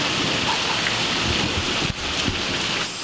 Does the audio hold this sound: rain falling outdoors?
yes